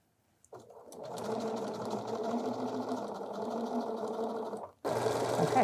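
A sewing machine stitches around the outer edge of a summer dress pocket, running in a steady close mechanical whir for several seconds, stopping briefly, then starting again.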